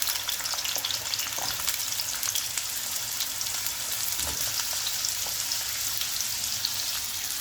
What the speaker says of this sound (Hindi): तो तेल हमारा गर्म हो चुका है, इसमें डालेंगे आलू।